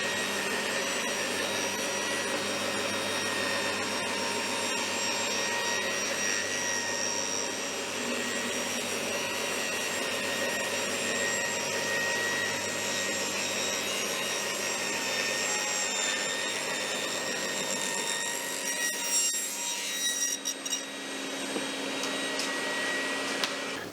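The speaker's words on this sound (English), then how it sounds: "I will return to the table saw and I just have to accept the fact that I'm losing 3 mil with each cut" A table saw with a zero-clearance insert rips thin strips of soft wood for shoji lamps, droning as a loud continuous whine with the blade running steadily throughout and no talk.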